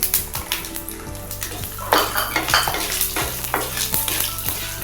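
Garlic and cumin frying in a pan give a loud, close sizzle, broken by repeated scraping and clinking of a spoon stirring against the metal pan.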